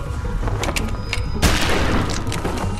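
A gunshot in The Walking Dead video game, a loud boom that lands partway through and rings out with a dense, lingering blast over low rumbling game sound.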